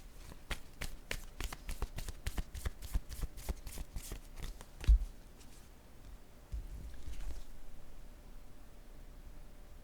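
A deck of cards being shuffled close up for a tarot-style reading, with a quick riffle of crisp regular flicks over about five seconds, then a softer rustle and settling of the cards.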